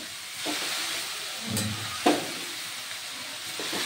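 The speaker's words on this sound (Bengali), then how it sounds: "শাকটা দিয়ে এবার ভালোভাবে নাড়াচাড়া করব" Red amaranth greens frying and being stirred in a pan, a steady hiss of sizzling oil broken by a few sharp scraping clinks of the spatula, close and fairly loud with no voices.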